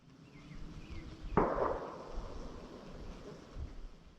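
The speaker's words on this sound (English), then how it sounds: "More shots followed, the sharp reports cutting through the quiet." A distant gunshot echoes once across open ground near a big pylon while camping, a sharp crack followed by a rolling decay, faint under wind.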